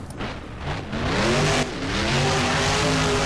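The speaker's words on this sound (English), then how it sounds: "And into a donut." A monster truck in the BeamNG driving game swings into a donut, its engine revving and droning steadily with rising and falling pitch and a hint of tire scrub, loud and continuous throughout.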